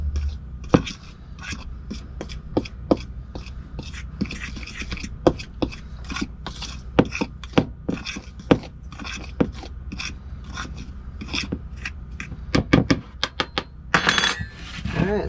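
Dry baking ingredients for gluten-free vegan banana bread, including salt, being stirred together in a bowl, giving a steady run of close, sharp scraping and tapping strokes against the bowl, busier near the end.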